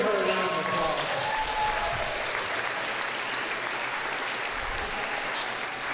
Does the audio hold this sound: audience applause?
yes